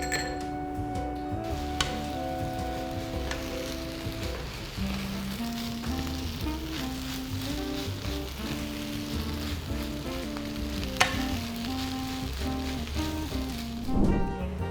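Rice sizzles in a pan with melted butter, oyster sauce and oligosaccharide syrup as it is stir-fried, a steady close frying hiss broken by occasional clinks of a utensil against the pan.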